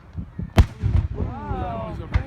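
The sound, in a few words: 4th of July fireworks exploding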